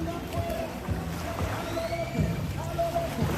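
Tourist boats arrive along a beach in Bocas del Toro, their motors a low churning rumble mixed with lapping water and wind, while people chat nearby.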